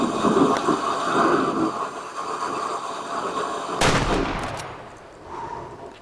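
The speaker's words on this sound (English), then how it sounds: "I had to take a headshot because he was walking away." A hunting rifle shot in the video game Way of the Hunter takes down a gemsbok on African plains, one sharp loud crack cutting through a rumbling outdoor ambience, followed by a brief echoing tail.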